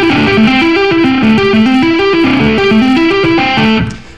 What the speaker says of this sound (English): This next lick is an example of applying string skipping to arpeggios over a chord progression.